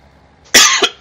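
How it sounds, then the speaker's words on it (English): A sudden harsh cough up close, followed quickly by two shorter coughs after a brief breathy intake. "sorry for the coughing"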